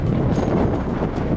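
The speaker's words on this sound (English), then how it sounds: "Look at that wind." Strong wind buffeting a mountain summit, a loud steady roar of gusts battering the microphone with no other sound breaking through.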